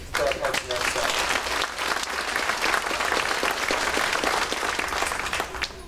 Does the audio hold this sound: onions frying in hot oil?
no